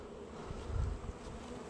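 Angry honey bees swarm and buzz around an opened hive as honey is taken, a dense steady drone close by with a brief swell partway through, no voices.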